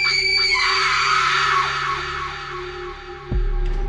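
A woman letting out a long, loud, piercing scream of terror in a haunted mansion, sustained and wavering before cutting off, followed by a low thud.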